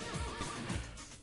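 A horse neighs in the closing credits of the Little Big Adventure video game, a short, close whinny with a rising and falling tremolo, alone without talk.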